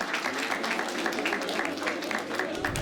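An audience applauds a cash-prize winner at a live show taping, brisk steady clapping from many hands throughout, fairly close, with a faint crowd murmur underneath.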